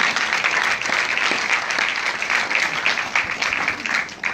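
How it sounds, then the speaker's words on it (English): An audience gives a sustained round of applause at an event about sickle cell disease, dense steady clapping throughout with faint voices mixed in. "A round of applause one more time for mommy."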